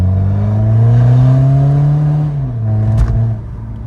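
A BMW 320d E90 LCI diesel, stage 1 tuned, with a full stainless exhaust revving close and loud, a deep droning note that holds, drops, then rises again before falling off.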